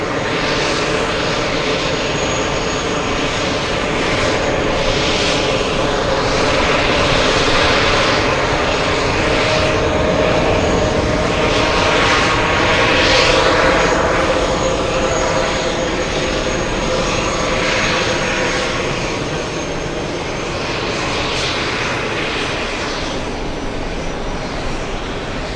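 A Boeing 787 jet airliner at JFK airport roars steadily nearby with a loud, sustained engine rumble and hiss that swells slightly mid-way, with no talking.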